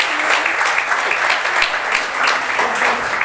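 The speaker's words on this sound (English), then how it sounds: "Give yourselves a big hand." A crowd claps in sustained, dense applause at a quiz event introduction, loud and steady for the whole stretch with no voices over it.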